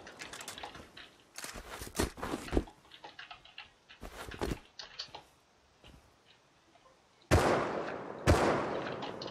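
Scattered single gunshots in Rust crack out in separate bursts, the last two sharp and loud near the end, with quiet gaps between and no talking.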